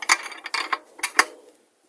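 An electric bike's hub motor wheel being turned by hand, its axle spinning with a run of close mechanical clicks and ratcheting bursts for about a second and a half, then quiet.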